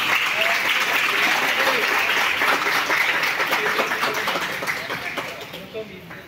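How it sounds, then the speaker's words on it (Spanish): Crowd at a school graduation ceremony claps loudly and continuously, a dense near wash of applause that slowly tapers off toward the end. "El aplauso para Eliciani."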